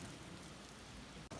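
Heavy rain falls steadily on a morning commute to college, a dense continuous hiss and patter that fills the whole moment with no voices.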